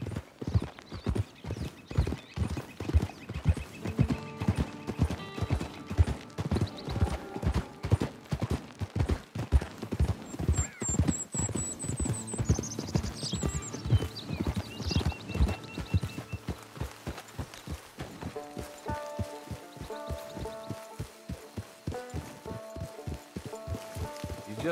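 Horse hooves clip-clop steadily in the Red Dead Redemption Online video game, a brisk continuous rhythm throughout with game music and tones layered underneath, and a brief whinny-like sound midway.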